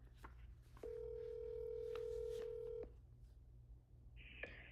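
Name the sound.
telephone dialing a number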